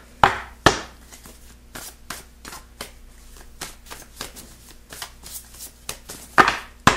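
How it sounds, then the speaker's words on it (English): A deck of cards is shuffled by hand, giving crisp riffling bursts and sharp snaps at the start and near the end, with softer shuffling and light tapping in between, close up and quiet, with no voices. "I like to shuffle the cards"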